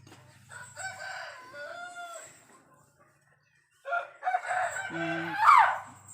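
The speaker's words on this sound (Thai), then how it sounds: "เสียงไก่ร้องนะคะ" A rooster crows twice nearby, loud drawn-out calls separated by a brief quiet moment.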